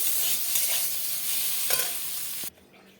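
A cooked mix of greens with boiled potatoes, fried eggplant and a pinch of sugar is stirred in a hot pan, giving a close, steady sizzle with stirring scrapes. It cuts off abruptly near the end, and no one speaks.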